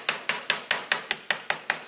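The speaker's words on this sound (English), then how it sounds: "Hammer and chisel. We are going to break the outer table of the" Hammer and chisel striking skull bone during a dissection: a rapid, steady series of about ten sharp, ringing taps, close and clear, with no talking.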